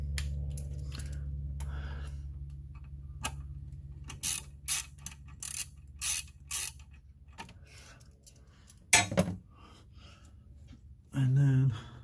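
A ratchet loosens an 8mm bolt on the coil pack of a 1999 Ford F-150 with the 4.6L engine, sounding as short bursts of sharp clicking spaced through a low steady hum, with someone speaking at intervals.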